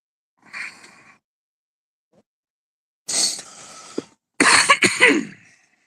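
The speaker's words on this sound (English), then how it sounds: "I'm getting over a cold, so I still got a lot of the cough" Several harsh coughs and throat clearing from a man getting over a cold, in separate bursts, close to the mic, with a quiet pause between the first and the rest.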